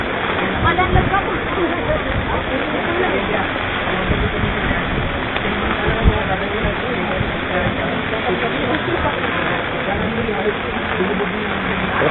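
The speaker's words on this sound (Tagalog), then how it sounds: "Ayan yung takbo ng tubig." Floodwater from Typhoon Ondoy rushes along a street in Mindanao, a loud, steady roar of churning current filling the whole stretch, with voices likely mixed in beneath the noise.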